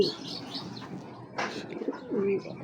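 Soft pigeon coos close by, a few low rolling notes amid faint chirps and a brief rustle, with no talking.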